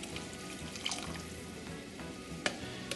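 Water runs steadily into a pot of chicken noodle soup, a continuous splashing pour with light sizzling and a few clinks of utensils, fairly close and without voices.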